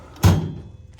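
A metal toolbox drawer in a diesel mechanic's tool chest, crammed full, slams shut with a single loud, close thud, followed by a brief rattling decay.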